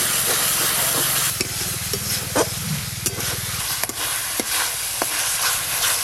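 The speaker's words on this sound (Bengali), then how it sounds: "এইভাবে নাড়তে নাড়তে মশলা থেকে তেল ছাড়া শুরু হয়ে যাবে।" A spice paste of dried red chilli paste, turmeric powder, cumin powder and salt fries in oil while a spoon stirs and scrapes the pan, giving a constant close sizzle broken by sharp, repeated clicks.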